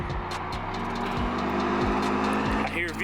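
A Honda-style engine revs hard in repeated climbing pulls, loud and close, with a rasping tone and pitch that sweeps upward and drops between gear changes.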